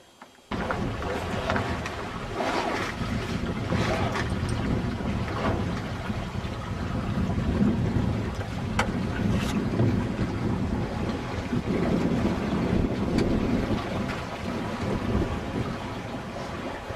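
A Seawind 24 sailboat runs under sail out over a reef, with steady rushing wind buffeting the microphone and a continuous wash of water along the hull, loud and unbroken with no talk.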